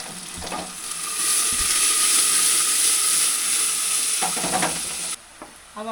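Sliced onions fry in a pan during village cooking of Nepali thukpa soup, giving a loud, steady sizzle with a few stirring scrapes near the start and end, without any voices.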